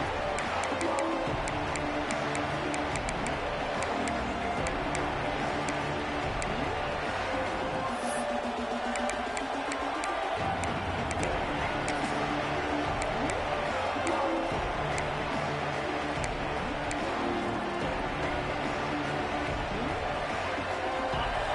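A dense roar from a packed football stadium crowd at a Tennessee versus Georgia college game holds steady and loud for the whole stretch, with a broadcaster's voice talking over it at times.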